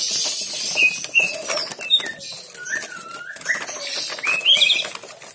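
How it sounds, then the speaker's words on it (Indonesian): Quick flurries of wing flapping and chirps from a young wild white-rumped shama being caught by hand, close and busy throughout, with no voices. "Pertama kita tangkap burungnya."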